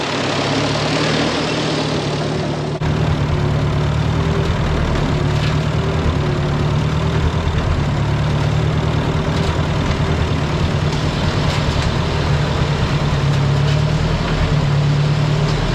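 A Ford Jubilee tractor engine, restarted after stalling from a suspected fuel problem, idles with a loud, steady low rumble that continues unbroken for the whole stretch, with no voices over it.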